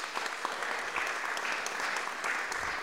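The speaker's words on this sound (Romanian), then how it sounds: "Mircea, te rog, vino să te aplaude publicul" An audience applauds steadily at a Christmas concert held in a hall, the dense clapping sustained and even throughout with no voices above it.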